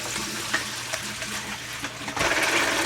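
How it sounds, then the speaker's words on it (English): Rehydrated black-eyed peas poured into a pot for a New Year's Day dish, giving a steady wet rattling and sloshing that grows louder and fuller near the end. "I'm going to pour these peas over here in this column."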